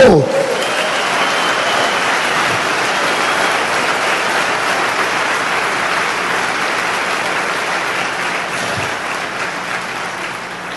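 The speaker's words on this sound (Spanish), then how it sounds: "Ahora sí, dale un buen aplauso." A church congregation breaks into loud, sustained applause during a sermon, a dense wash of many hands clapping steadily for the whole stretch with no pause.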